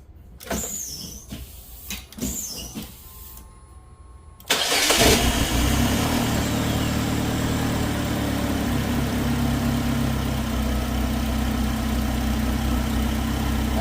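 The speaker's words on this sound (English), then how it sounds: "So let's go ahead and start the vehicle." A car with a repaired P0230 fuel pump control circuit fault gives a few soft chimes and clicks, then cranks and fires abruptly into a steady, even idle that hums on loudly to the end.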